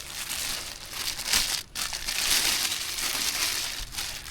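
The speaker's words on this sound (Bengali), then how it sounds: "পিঁপড়া ডিম মিক্সার করা হবে" Ant eggs being worked by hand into river fishing bait, a close, continuous squishing and crunching with crinkly, papery rustles in uneven pulses, no talking.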